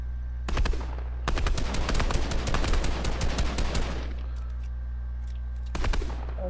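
Rapid bursts of automatic gunfire from the video game Fortnite, a dense loud volley of shots lasting a few seconds, with scattered single shots before and after over a steady low hum.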